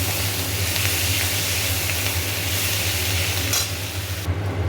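Masala with ginger garlic paste and salt fries in a pan with a steady, close sizzle and hiss, a low cooking hum beneath it and an occasional faint scrape of stirring.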